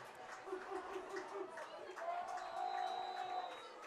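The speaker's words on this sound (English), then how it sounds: "Crowd's making some noise." Crowd noise at a high school football game on a big fourth down, a moderate murmur and cheering from the stands with scattered voices and a whistle-like tone.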